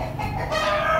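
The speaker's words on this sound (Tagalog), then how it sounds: "May background akong manok." Chickens cluck and call in the background on a rural farm, steady and moderately close, with outdoor ambience and no talking.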